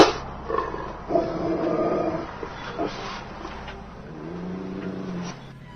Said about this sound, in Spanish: se escuchó muy cerca de sus oídos el sonido característico de un perro a punto de atacar